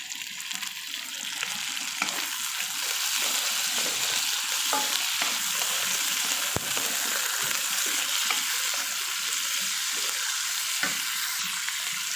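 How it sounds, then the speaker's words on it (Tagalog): Pork sizzling and frying in a pan for sotanghon gisado, a loud, steady hiss with crackling spatters and occasional stirring scrapes, continuous and close throughout. "after natin maprito ng saglit, so ilalagay natin yung pork"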